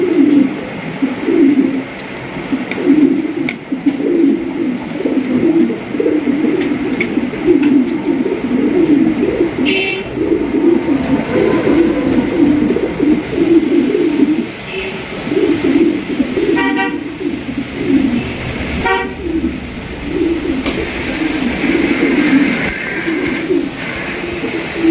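Pigeons, including Mili racer birds, coo in low repeated throaty bursts close by through much of the stretch, with several brief car horn toots from outside breaking in later.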